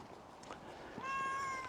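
A cat meows outdoors at night on a Blackpool housing estate, one drawn-out tonal meow near the end over a quiet background hiss.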